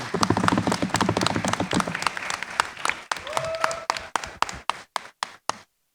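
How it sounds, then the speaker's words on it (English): Audience applause at a Power Morphicon 2022 fan convention panel, a loud dense burst of clapping that thins out into a few scattered, isolated claps before fading to silence. "So I want to give them one more round of applause."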